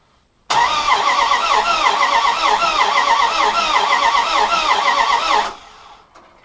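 An old car engine cranks over steadily during a compression test with a rapid, rhythmic churning for about five seconds, loud and close, then stops abruptly.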